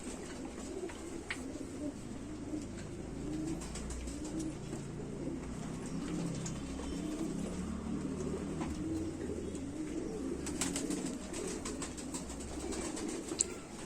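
Indian Rampuri pigeons cooing nearby in low, repeated, throaty coos that continue steadily, with occasional faint chirps and rustles in the background.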